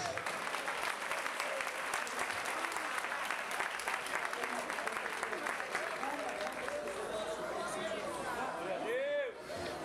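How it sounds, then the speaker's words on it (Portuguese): A church congregation applauds during a Saturday worship gathering in Araçuaí, a steady, fairly distant sheet of clapping lasting around ten seconds with crowd chatter and voices underneath. "Aplaudindo a Jesus."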